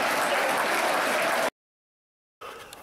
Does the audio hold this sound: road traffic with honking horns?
no